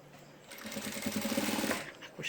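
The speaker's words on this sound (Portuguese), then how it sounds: "Vou passar uma costura pespontando aqui em cima." A sewing machine topstitches along the edge of a simple trapeze dress, running in one short, close, rapid whirring burst that speeds up and then stops.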